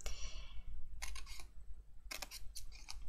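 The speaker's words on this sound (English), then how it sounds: "Grab yourself some little ones, and then we're just going to snip up that section" Small scissors snipping card, quick clusters of short crisp cuts close by, two or three rapid snips at a time separated by brief pauses.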